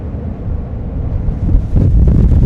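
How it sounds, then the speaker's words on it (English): Strong wind buffeting the microphone on the open upper deck of the P&O Britannia cruise ship, a low roaring rumble that gusts harder partway through, with no voices. "Oh, it's pretty windy up here."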